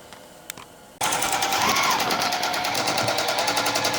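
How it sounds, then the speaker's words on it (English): Long-arm quilting machine stitching colored-thread stippling along the borders of a quilt on a frame, a steady rapid mechanical chatter that starts abruptly after a quiet moment and runs loud and continuous to the end. "the operator here is just doing more stippling work with the colored thread on the borders of her pattern"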